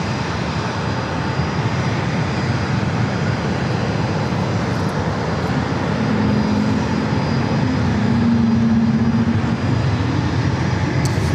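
An airliner at San Diego airport produces a loud, steady roar of jet engines that swells slightly over several seconds, continuous and close, with no talk.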